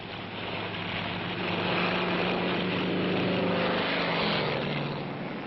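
A WWII propeller plane approaches to land on the aircraft carrier USS Franklin, a steady droning engine roar that swells slightly, then holds.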